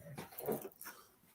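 A dog whimpers softly, a few brief whiny yelps close by but faint, with no talking over them.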